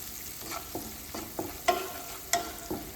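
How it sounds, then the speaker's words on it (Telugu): Onions with turmeric fry quietly in a pan, and a spoon scrapes and taps the metal now and then in sharp separate strokes over a soft sizzle. "సో ఆల్మోస్ట్ ఆనియన్స్ ఫ్రై అయిపోయాయి"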